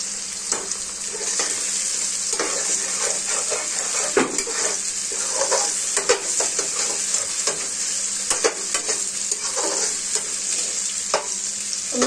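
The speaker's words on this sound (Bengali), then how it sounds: "আমি একটু ভাজি" Food frying in a pan with oil, a steady close sizzle running throughout with repeated scraping and stirring knocks of a utensil against the pan.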